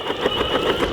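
An electric booster skateboard with a broken motor belt gives off a steady, close, rattling whir that pulses rapidly throughout a single short stretch.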